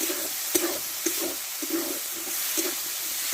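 Masala and tomato frying in hot oil in a pan, a steady bright sizzle with soft periodic stirring scrapes, close and continuous.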